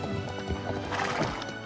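A Haflinger horse in a horse-riding game gives a loud, close whinny, a quavering neigh that rises and falls over under two seconds with no voices over it.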